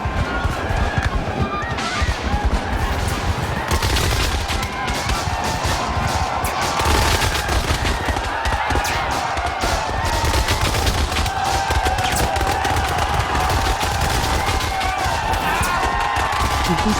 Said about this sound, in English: Time after time, the 54th fires volleys to stem another Confederate advance